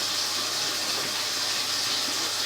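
Water rushing through a residential sewer lateral pipe under SE Pine St, a dense, steady gushing hiss that stays loud and unbroken throughout.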